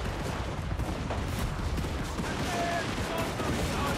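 Massed gunfire volleys crackle in a dense, continuous barrage during a Total War Warhammer 3 battle, loud and unbroken for several seconds.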